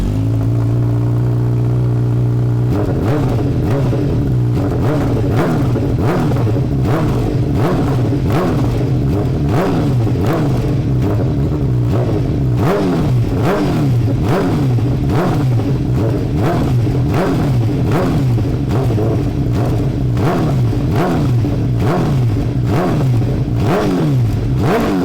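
A Suzuki Hayabusa motorcycle engine idles, then is revved hard in repeated quick throttle blips, a loud, close, rhythmic rise-and-fall roar lasting throughout.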